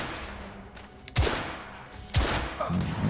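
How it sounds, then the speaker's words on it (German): Two loud gunshots from a firearm in the video game The Order: 1886, spaced about a second apart, each with a sharp crack and a lingering echo over low ambient noise. "lass mal testen, ob die Waffe so weit schießen könnte"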